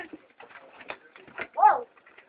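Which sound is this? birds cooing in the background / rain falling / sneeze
birds cooing in the background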